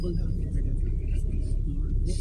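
Low rumble of city road traffic in Makati, Manila, with engines idling and moving cars around, continuous and fairly close while people talk over it.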